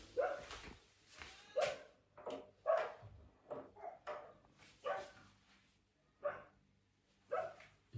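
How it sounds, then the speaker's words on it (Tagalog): Several dogs bark outside in the heat, a string of sharp, uneven barks and yips spaced over several seconds, moderately distant and faint, with no talk over them. "Yung mga aso."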